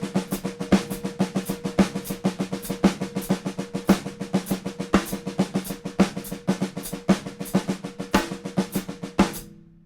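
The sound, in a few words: drum 7A sticking, one single followed by three doubles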